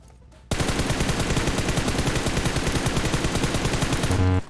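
A sustained burst of rapid automatic gunfire in PUBG Mobile, loud and close, with the rounds running together in a fast even rattle for about four seconds before cutting off.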